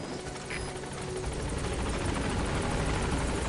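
Helicopter in the video game Metal Gear Solid V arriving at a landing zone, its steady rotor thump and engine whine growing slightly louder throughout, continuous and close with no talk.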